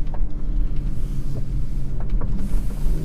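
A 2019 BMW X6 40i with its M Performance engine, heard from inside while driving: a loud, continuous low drone and road rumble with small surges in level.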